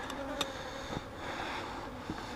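A steady, close hum of honey bees buzzing, a continuous droning drone with a few brief louder passes, no voices.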